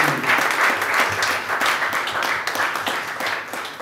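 A church congregation applauds steadily and loudly, dense continuous clapping filling the space for several seconds and tapering slightly toward the end.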